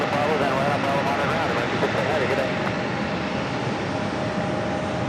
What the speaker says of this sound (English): the I Love New York special livery of that JetBlue A320 now pushing back from Terminal